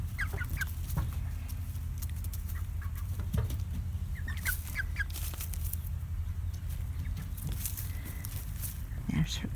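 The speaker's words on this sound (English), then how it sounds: "Hi, chicken baby." Backyard chickens cluck on and off at close range over a steady outdoor background, with a person's voice and footsteps mixed in now and then.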